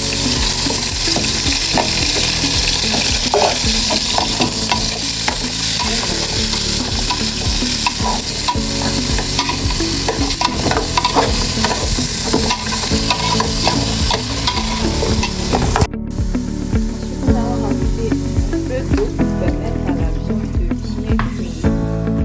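Fresh meat frying in a pot for Ivorian djoumblé sauce, a loud constant sizzle with repeated scraping and clanking of a spoon stirring, close up, briefly cutting to quieter stirring near the end.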